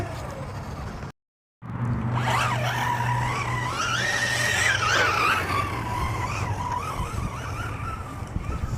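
A Hobao Hyper10 SC 2.0 RC short course truck runs off-road, its motor whining loudly and rising and falling in pitch with rough tire scrabble, broken by a brief silent dropout near the start.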